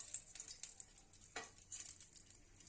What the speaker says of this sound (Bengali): শুকনো লঙ্কা ফোড়ন দিলাম আর একটু কালো জিরে ফোড়ন দিলাম। ফোড়নটা নাড়াচাড়া করে